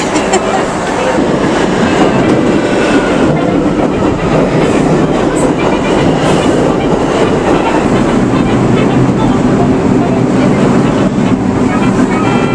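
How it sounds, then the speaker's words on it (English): A train rumbles steadily into a station with a loud, continuous roar and rattling carriages, faint voices mixed in. "Here comes the train."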